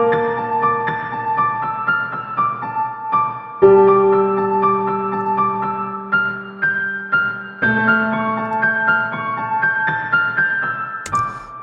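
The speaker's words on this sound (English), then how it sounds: "It is what it says, a grand piano." A Kontakt grand piano sample library plays gentle, unhurried chords and melody notes with soft attacks and sustained ringing tones, moderately quiet and solo.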